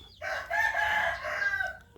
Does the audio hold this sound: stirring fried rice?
no